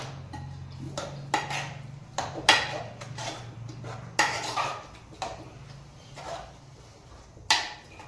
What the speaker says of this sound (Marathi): अशा पद्धतीने गरगटून घेत आहे बघा